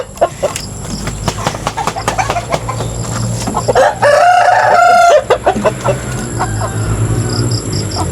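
Game fowl rooster crows loudly and close by in a sustained call midway, surrounded by repeated clucks and short calls from the birds before and after.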